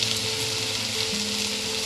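Asafoetida sizzles in hot oil for a spinach, pea and paneer dish, a loud, continuous crackling fry with a faint underlying hum, no voices.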